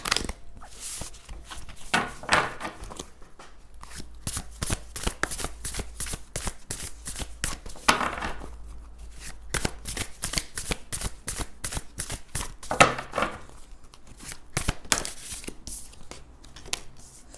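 Oracle cards being shuffled for a weekly card reading, a rapid run of crisp riffling clicks and flutters, close and fairly loud, continuing in bursts with brief pauses and no speech.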